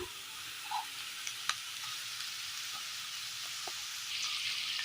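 Sardines sizzle steadily in hot oil with curry leaves for a Kerala-style curry, a constant bright frying hiss with small pops and crackles throughout and no voices.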